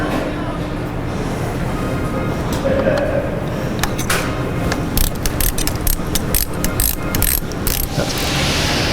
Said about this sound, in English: So let's go ahead and get that valve out and take a look at it.